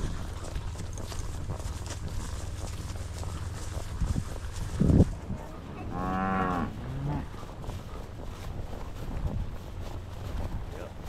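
Cattle moo during a fall cattle drive on horseback, one loud close bellow standing out over wind noise and a rider calling out commands to a dog.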